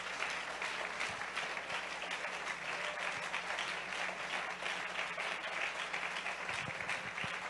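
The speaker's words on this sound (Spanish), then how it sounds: "Si ese aplauso es para alabarlo" Sustained applause from a church congregation during a worship service, a dense steady wash of many hands clapping throughout, fairly close and filling the room with no voice standing out.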